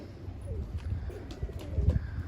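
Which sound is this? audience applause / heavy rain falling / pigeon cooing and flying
pigeon cooing and flying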